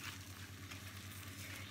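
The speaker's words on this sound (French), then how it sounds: "on fait revenir un petit peu les échalotes pour donner du goût, et puis on va venir ajouter notre cresson dans la casserole" Shallots and watercress sauté in a saucepan with a faint, continuous hissing sizzle and a low steady hum underneath.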